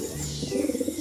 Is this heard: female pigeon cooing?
yes